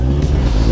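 A moped engine runs on a rough dirt road, a loud, close, continuous low rumble with a slight waver in pitch.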